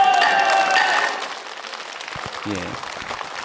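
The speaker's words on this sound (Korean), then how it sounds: "이 박수 소리는 아까 우원식 국회의장이 가결을 선포할 때 나왔던 박수 소리이고" Applause in South Korea's National Assembly after the vote lifting martial law passed, a broad burst of clapping from the chamber that fades after about a second into a quieter murmur of voices.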